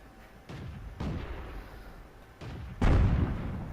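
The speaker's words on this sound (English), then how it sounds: "that was an artillery round that just landed real close to me" Artillery shells landing close by in the video game World of Tanks, a series of deep booming impacts with the loudest, heaviest blast near the end over a low engine-like rumble.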